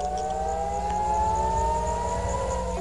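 Air raid sirens wailing during rocket attacks from Gaza: a steady, distant civil defence siren tone holding across the whole stretch, with no voices.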